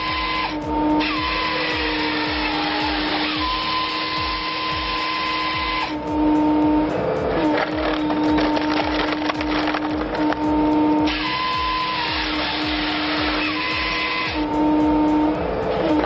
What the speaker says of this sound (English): The chainsaw slices logs clean, and the hydraulic wedge follows through with crushing momentum.